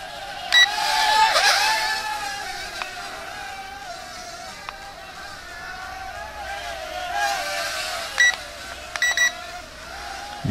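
A REDPAWZ R020 Blast mini drone buzzes steadily nearby, its high motor whine rising and dipping as it flips forward in flight, with a few short beeps near the end.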